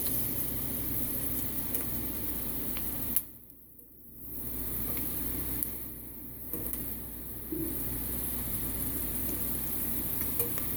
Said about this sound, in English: I'm gonna put the onion into the red palm oil